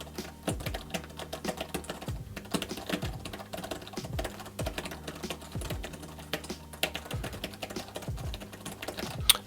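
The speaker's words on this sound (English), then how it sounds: "I'm just going to bang the keys." Keys clatter rapidly on a Zagg Pro Keys keyboard case for an iPad Air, a close, crisp run of irregular taps with occasional louder strikes and no talking.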